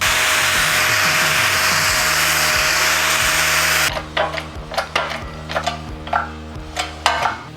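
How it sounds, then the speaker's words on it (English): An angle grinder cuts a 45-degree bevel around the edge of a steel part, its loud continuous whine running steadily at first, then breaking into rhythmic bursts of scraping contact as the tool works around the piece. "we are going to grind a 45-degree angle all the way around this so we can come back on the bottom side"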